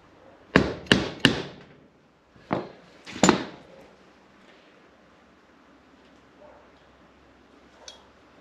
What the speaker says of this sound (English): We can fold those little tabs down just with a pin punch and the hammer